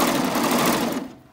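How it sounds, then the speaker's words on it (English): A serger sewing machine stitching fabric, a steady dense mechanical whir that runs loud and close for about a second before cutting off as the machine stops. "We're going to start to serge, watching these things here that they don't interfere."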